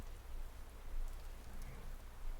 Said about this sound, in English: I think rain for me will always just be like peaceful.